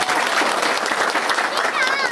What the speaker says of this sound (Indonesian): Kita kasih tepuk tangan dulu buat Pak Amar Toni.